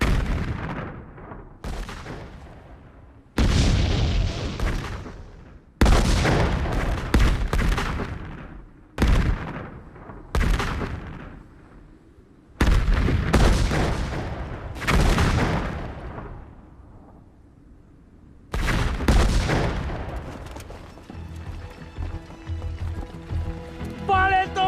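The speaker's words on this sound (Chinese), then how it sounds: "炮击15分钟" Artillery shells burst in a Korean War film bombardment, with heavy booms striking one after another in irregular waves, each explosion rumbling and decaying before the next hit.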